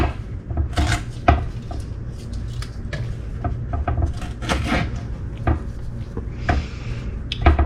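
Knife strokes tap and scrape against a cutting board as hot peppers are cut, in an irregular rhythm, close up with soft kitchen handling noises between cuts.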